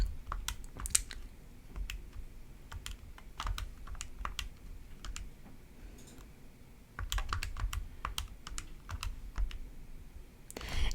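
Keys on a computer keyboard clatter in quick irregular bursts with short pauses, close and fairly quiet, with no voices.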